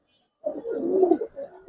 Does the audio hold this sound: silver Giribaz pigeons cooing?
yes